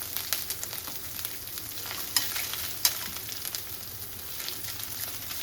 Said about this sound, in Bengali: আদাটাকেও ভালোভাবে একটু ভেজে নিচ্ছি